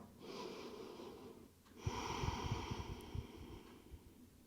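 Slow, deep breathing of a person resting in yoga child's pose, with soft airy inhales and exhales heard up close and no talking.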